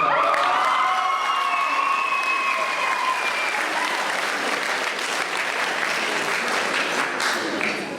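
Sustained loud applause from a large crowd at a homecoming for an under-16 boys basketball championship team, with some cheering and whistles at the start, continuing steadily throughout.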